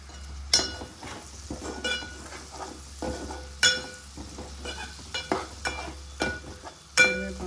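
Curry leaves dropped into hot oil in a pan for a tomato and egg curry, giving a steady sizzle with crackling bursts and a few spoon and pan clinks, close up with no talking.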